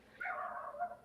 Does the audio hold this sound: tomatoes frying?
no